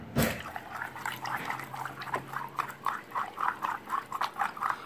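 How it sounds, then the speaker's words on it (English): Basil seeds stirred in water for a sweet dessert drink, giving a run of rhythmic wet swishes and clinks that quicken toward the end, close and fairly loud, with no talk. "Okay, let's mix that a little bit."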